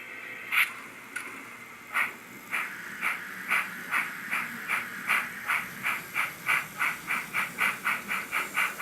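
N scale model locomotive with a sound decoder running on track, giving off steady rhythmic chuffs with hissing that speed up gradually, close and fairly loud.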